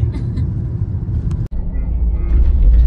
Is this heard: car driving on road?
yes